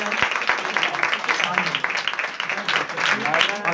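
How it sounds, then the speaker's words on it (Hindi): Audience applause welcoming a guest at a gathering, a dense patter of many hands clapping at moderate loudness, mixed with talk and crowd voices throughout. "आए नाना को जोरदार तालियों में वेलकम कहते हैं"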